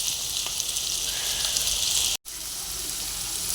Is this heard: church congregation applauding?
no